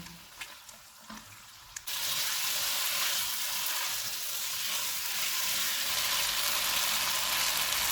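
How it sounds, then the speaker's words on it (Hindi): Faint clatter, then a sudden loud burst of frying as boiled potatoes hit hot oil, settling into a steady, close sizzle. "उबले हुए आलू डालेंगे, इनको 2 से 3 मिनट तक भूनेंगे।"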